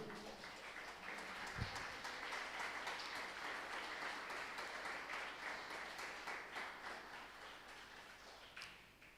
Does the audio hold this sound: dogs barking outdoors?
no